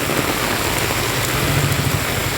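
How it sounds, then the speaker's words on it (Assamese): Heavy rain falling steadily around an umbrella, a dense continuous hiss of drops close by, no voices. "কিমান বৰষুণ পৰিছে চাওক"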